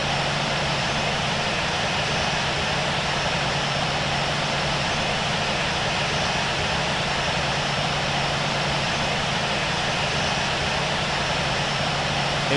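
Jet airliner engines whine steadily while taxiing in the Infinite Flight simulator, a loud, unbroken roar with a constant hum and no pauses.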